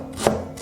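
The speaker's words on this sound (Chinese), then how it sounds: "生姜切片" A kitchen knife cuts through fresh ginger into slices, producing one short, crisp knock against the cutting board amid quiet room background.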